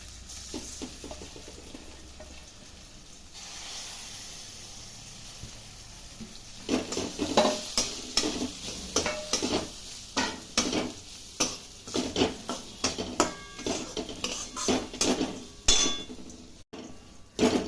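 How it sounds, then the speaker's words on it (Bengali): Rice is stirred and fried in a pot with cardamom, cloves, cinnamon and bay leaves for pulao. After a quieter opening, a steady run of clattering spoon scrapes and knocks against the pot follows, with no talking. "এবার চাল ছেড়ে দিচ্ছি।"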